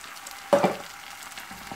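Tomato and cashew paste fries in a pan with a low steady sizzle, broken by a brief louder burst of hissing and stirring near the start, heard close with no speech.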